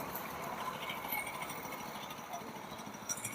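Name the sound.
7 hp chain cultivator engine running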